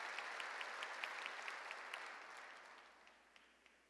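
Church congregation clapping together, a steady wash of applause with faint rhythmic beats that slowly fades toward the end, heard from a distance.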